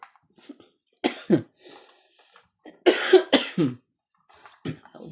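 Several harsh coughs come in short bursts, close and loud, with a few quieter throat sounds between them.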